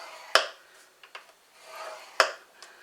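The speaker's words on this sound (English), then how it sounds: "we're going to score this on the long side, which is the 11-inch side, using the small ball" A small ball stylus scores a sheet of paper along its 11-inch side for a bee hive box. Two sharp clicks are heard, with light taps and a soft scratchy stroke between them, close and quiet.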